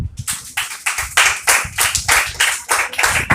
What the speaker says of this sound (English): Everybody give George a clap.